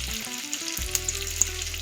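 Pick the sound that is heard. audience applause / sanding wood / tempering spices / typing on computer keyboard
tempering spices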